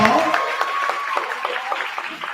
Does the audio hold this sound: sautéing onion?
no